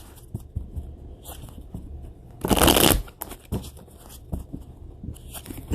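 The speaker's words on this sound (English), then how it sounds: "So let's pull 3 from here for Leo, please." Tarot cards are pulled and shuffled from a deck, a burst of loud riffling in the middle framed by lighter taps and card slides, close up with no talking.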